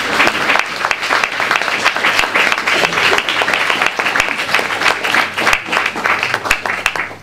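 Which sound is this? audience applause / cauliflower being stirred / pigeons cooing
audience applause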